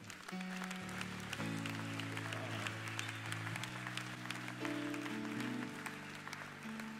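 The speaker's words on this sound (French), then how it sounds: "Tu peux acclamer le Seigneur si tu l'aimes." A church congregation applauds and cheers to acclaim the Lord, steady dense clapping throughout under sustained organ or keyboard chords.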